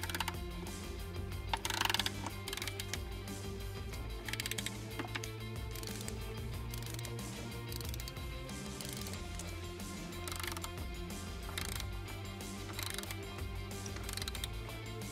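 A ratchet wrench tightening intake manifold bolts on a 1996-1998 Ford Mustang GT engine, with repeated rapid clicking bursts over a constant mechanical hum, close and moderately loud, with no one speaking.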